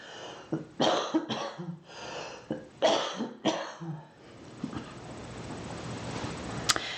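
A person coughs repeatedly after smoking, in close, harsh bursts for several seconds, then the coughing stops and a faint hiss remains.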